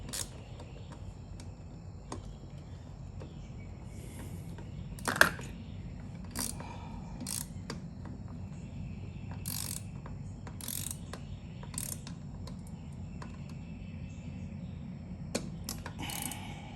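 Small socket ratchet turning a bolt on a Harley-Davidson push-button fuel door lock, giving quiet repeated clicking bursts at irregular intervals over a low steady hum, with one louder clack partway through.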